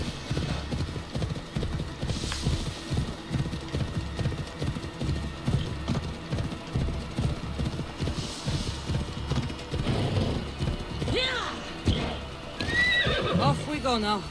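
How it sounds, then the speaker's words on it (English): Rhythmic hoofbeats of a galloping horse continue throughout, with a shrill neigh rising near the end, all sounding like game audio, from Assassin's Creed Odyssey. "what a temperamental horse you are sometimes."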